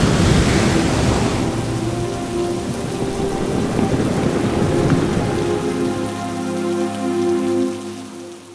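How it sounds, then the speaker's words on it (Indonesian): Heavy rain pours steadily as a storm sound effect in an Indonesian radio drama, with low rolling thunder rumbling underneath. The dense downpour is loudest at the start, then eases a little as the rumble fades out. "turun hujan yang sangat deras"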